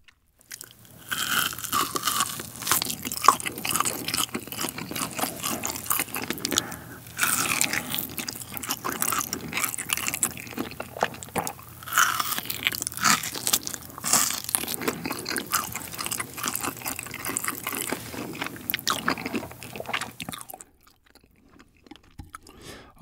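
Close, crunchy chewing and slurping of grilled pork ribs and spicy cold noodles continues steadily for about twenty seconds, then stops into near silence.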